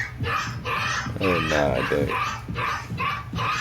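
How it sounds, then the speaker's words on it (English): A very small, young puppy barks and yips in short repeated bursts close by, with people talking over and between the barks. "this is a puppy, a very small dog and a very young dog"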